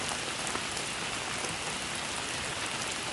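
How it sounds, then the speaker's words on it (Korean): Steady rain pattering densely and evenly on a surface, a constant wash of close droplets with no pauses and no voices. "시원한 비가 나의 고통을 씻겨낸다. 강한 빗줄기가 험했던 산을 낮게 만들어준다."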